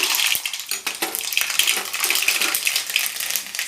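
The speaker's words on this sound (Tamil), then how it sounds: "எண்ணெய் சூடாகிடுச்சுங்க. நம்ம இப்போ பிளாக்கு கடுகு போட்டுக்கலாம்" Black mustard seeds pop and crackle in hot cooking oil, a steady spattering of sharp little bursts and sizzle throughout, with no voices.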